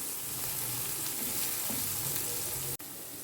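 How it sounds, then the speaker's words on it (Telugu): Half-fried onion and tomato pieces sizzling steadily in a pan, a close, even frying hiss with a faint stir or two and one abrupt break near the end. "ఇప్పుడు టమాటా ముక్కలు కూడా వేసి ఇవి కూడా 1 నిమిషం వేగించుకోవాలి."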